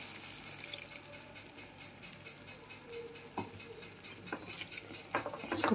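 Paneer cooks in a pan for smoky dahi paneer as water is added, giving a quiet sizzle with soft stirring scrapes and a brief splash and hiss near the end.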